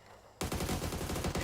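Rapid video game gunfire erupts after a short quiet lead-in: a fast, loud volley of evenly spaced shots like a machine gun, close and dominant with no talk over it.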